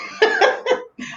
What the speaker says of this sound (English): I'm always coughing. I'm gonna be one of those old people just with a dry cough.